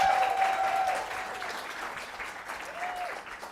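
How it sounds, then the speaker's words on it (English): Audience applauding at a university social work faculty meeting, a steady wash of clapping that holds for several seconds before gradually thinning out. "Now you clap."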